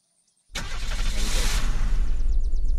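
A car engine in the video game Unturned cranks and catches after a moment of silence, then settles into a loud, steady mid-pitched run for the remaining couple of seconds.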